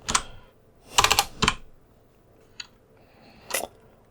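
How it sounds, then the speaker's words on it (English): Keystrokes on a computer keyboard come in short bursts of close clicks, with a quick cluster, a pause, then a few isolated taps spread across a few seconds. "Fine, I'll type it out."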